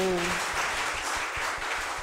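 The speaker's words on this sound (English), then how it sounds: "I want us to just clap a big round of applause to God." Applause from an audience at a stakeholder forum for a book donation initiative, a steady wash of many hands clapping that carries on evenly without a break.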